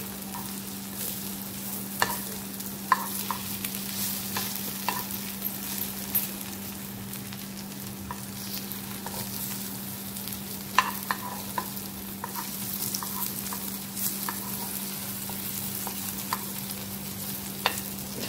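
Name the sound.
aluwadi rolls shallow-frying in a little oil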